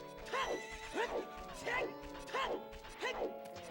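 A horse whinnying repeatedly in The Legend of Zelda: Ocarina of Time, with five clear rising-and-falling neighs in a steady rhythm, close and fairly loud.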